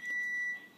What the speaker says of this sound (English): that's the oven saying that we can put the food in.